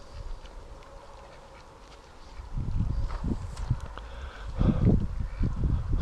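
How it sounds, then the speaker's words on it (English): Muscovy and Pekin ducks on a free-range yard quack in a lively cluster, the calls swelling from quiet to loud, busy overlapping bursts nearby with no talking. "Come on, ducks. Coast is clear."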